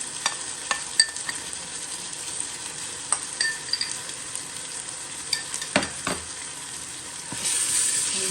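Ginger-garlic paste sizzles in hot oil with onions already fried brown, a steady frying hiss broken by scattered scrapes and light clinks of stirring. There is no talk.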